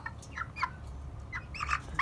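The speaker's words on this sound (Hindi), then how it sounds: "इतना प्यारा चूजा यार, पता नहीं क्या हो गया।" A baby chick peeps in short, high, thin chirps, close by and fairly soft, coming in small clusters over a low background hum.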